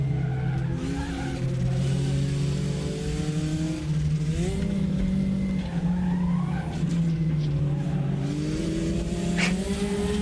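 A high-pitched Type R racing car engine in the RaceRoom racing video game revs steadily and loudly throughout, its pitch rising and falling through gear changes, with a tire squeal near the end.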